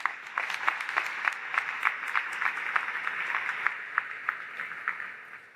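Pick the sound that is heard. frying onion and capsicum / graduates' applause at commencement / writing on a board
graduates' applause at commencement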